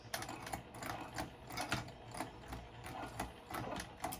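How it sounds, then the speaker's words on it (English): A sewing machine stitches the lining of a flat-bottomed zipper pouch, then back stitches, giving a quiet, steady run of rapid mechanical ticking with small bursts of speed. "we're going to go ahead and stitch a couple inches and then we're going to back stitch"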